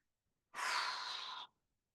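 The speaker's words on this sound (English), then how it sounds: "we're going to exhale and we're going to push out as much air as we can" A single forceful exhale, a close, breathy rush of air lasting about a second, then silence.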